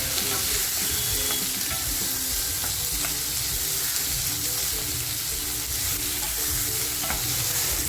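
Chopped tomato and red chillies hit frying onions in a prawn masala pan, making a loud, dense, continuous sizzle with stirring scrapes throughout, close and alone with no talk.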